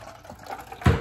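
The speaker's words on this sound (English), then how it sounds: "I'm gonna get this thing and then pour it into the cup." Water poured into a cup, a quiet trickle that builds into a short, louder splash at the end.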